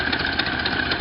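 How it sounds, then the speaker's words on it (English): A Ford Model A car engine runs at a steady idle, a continuous rough mechanical drone with a fast, even pulsing beat, close and fairly loud. "the engine runs pretty good"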